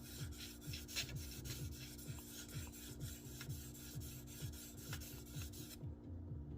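A Case Sodbuster knife edge is drawn against the stones of a TS Prof Kadet Pro sharpener, giving steady repeated rasping strokes, close and moderately loud, with no voices.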